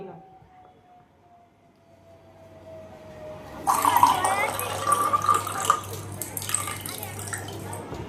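Water gushes suddenly from a tap after a quiet stretch with a faint tone, then runs steadily and fairly loud until the end.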